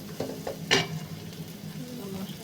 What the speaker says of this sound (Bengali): এটাকে একটু ভেজে ভেজে নেব।